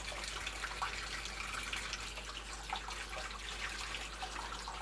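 Tap water runs steadily into a sink while items are washed with leftover Ivory soap, a soft continuous splashing close by with no talking.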